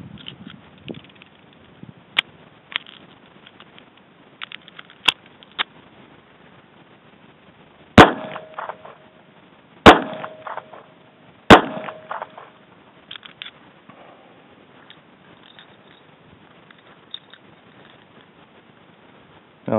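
Sharp metallic clacks and racking of a SIG P238 pistol's slide while a double-feed, failure-to-extract jam is cleared, a few scattered clicks then three loud, close snaps in quick succession, no talk.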